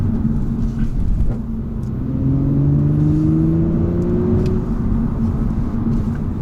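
Audi S4 TFSI quattro cruising in normal mode, a steady low engine hum and road rumble with smooth rising revs through gear changes, continuous and fairly loud from inside the car.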